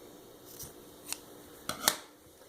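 Scissors trim thread ends on a craft gnome, giving a few quiet, crisp snips spaced irregularly over a near-silent background.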